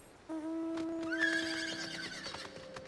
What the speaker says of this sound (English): Let's get on the horse and do it.